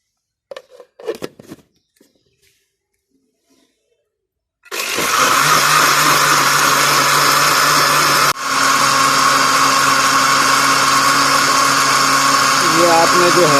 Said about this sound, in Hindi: पानी डालने के बाद जो है आपने इसको चलाना है जूसर को